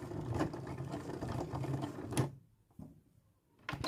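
A domestic sewing machine hums as it stitches up a skirt seam toward the centre back, then stops and briefly reverses for a back stitch, with short mechanical whirs after a pause; quiet and close.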